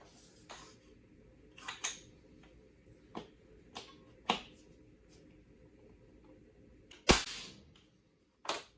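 A nail gun fires into the bottom plate of a floating basement wall frame: several sharp, separate cracks spaced a second or two apart, the loudest near the end, over a quiet room background.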